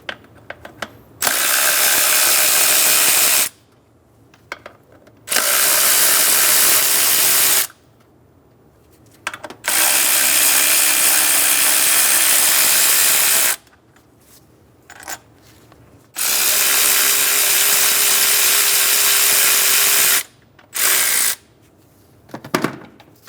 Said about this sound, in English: Using a 12mm socket, we're going to remove the 2 nuts and 2 bolts for the throttle body.